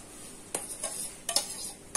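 Chopped onion, gherkins, tomato and pepper drop into a bowl of bulgur salad, giving a few soft, brief clinks and rustles against the dish in a quiet kitchen.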